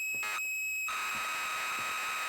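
A data tape playing in Metal Gear Solid V: a steady high-pitched electronic tone with a harsh buzzing, data-like texture, briefly dropping out near the start before continuing unbroken.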